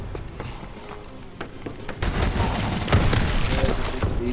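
Call of Duty gunfire, loud and dense, with a steady rattle of shots that swells into heavier bursts halfway through over a busy game mix.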